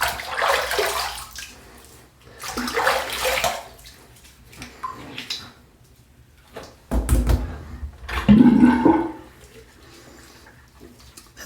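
Water splashing and running in bursts while rinsing a freshly shaved head, with several separate pours and gushes and quieter pauses between them.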